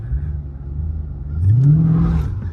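Dodge 392 Scat Pack engine revving for a burnout, a low idle rumble that swells into a short rising rev near the end, loud and close with no talking over it.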